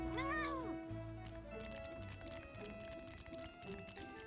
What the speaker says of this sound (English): I love hearing the little cat tiptoes clattering along.